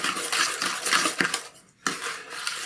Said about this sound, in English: Mix that sugar in.